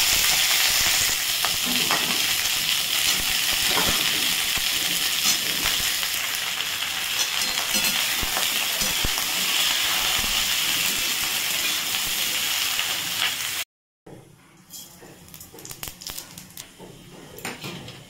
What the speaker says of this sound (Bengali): আলু ফুলকপি পেঁয়াজ কলি ভাজা।